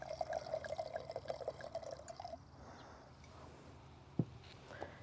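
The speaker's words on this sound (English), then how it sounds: "let's go ahead and pour this bad boy" Wine poured into a glass, a thin trickling stream for about two seconds, then quiet with a single sharp clink or drip near the end, soft and close.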